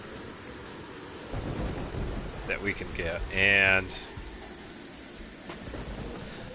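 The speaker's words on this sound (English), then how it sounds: "Oh, it's because of the lightning storm?" A lightning storm in the video game Terraria brings a continuous hiss of rain and a loud rumbling thunder surge in the middle, while someone speaks over the weather.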